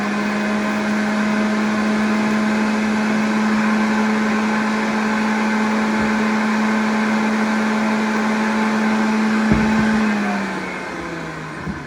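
A blender whirs loudly and steadily as it mixes green juice of cucumber and green pepper, a sustained motor drone that winds down near the end, with no voices.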